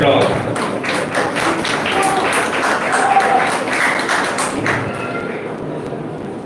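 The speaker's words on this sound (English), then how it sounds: "Please welcome him with a huge round of applause" An audience applauding to welcome a speaker at a school function, a dense, sustained round of clapping with scattered louder claps, fading slightly toward the end.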